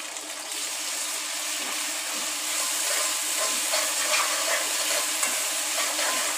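Cumin seeds and ginger-garlic paste fry in a pan with a steady, close sizzle that holds at an even level throughout.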